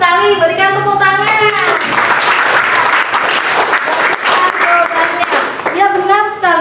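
A classroom audience bursts into loud, dense applause that builds and holds for several seconds, with a young voice singing or speaking over the clapping at the start and end.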